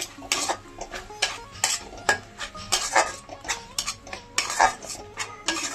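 A spatula scrapes and knocks rhythmically against a pan while onion and tomato paste fries for an egg and cauliflower curry, repeated metallic strokes over a soft sizzle, with nobody talking.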